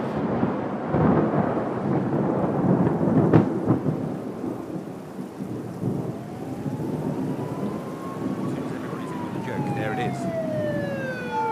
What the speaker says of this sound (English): if I play it again, you'll hear frying eggs.